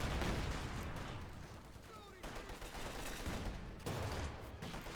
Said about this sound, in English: Field gun opening up on it as well.